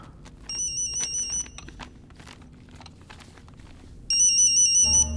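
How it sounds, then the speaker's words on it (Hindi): A mobile phone ringtone rings in two bursts, a repeating high electronic melody at the start and again near the end, with quiet footsteps and faint background in between. "ये किसका फोन है?"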